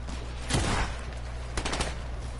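Sniper fire rings out in a shooter video game: two sharp, close gunshot bursts about a second apart, each trailing into a brief rumbling echo over steady background noise.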